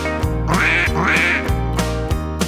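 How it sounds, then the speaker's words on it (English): Farm ducks quack loudly and close by, a quick series of several nasal calls in a lively, irregular rhythm with no talk over them. "the ducks go as they waddle under the fence"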